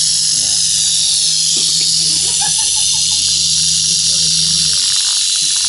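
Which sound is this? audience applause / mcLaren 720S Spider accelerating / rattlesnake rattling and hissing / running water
rattlesnake rattling and hissing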